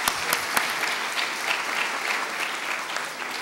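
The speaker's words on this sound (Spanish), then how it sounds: "Invito a todos a aplaudir y agradecer a nuestros panelistas." An audience applauds panelists at a university forum on Bogotá's mass transit, dense steady clapping from a sizable crowd filling the room and tapering slightly at the end.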